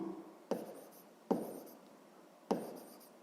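Pen strokes on paper while working a sixth-grade math exercise, three distinct scratchy bursts at intervals, each starting sharply and fading, close and quiet.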